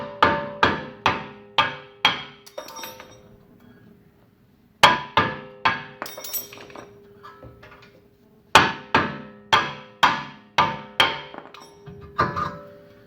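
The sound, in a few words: hammer striking a wheel hub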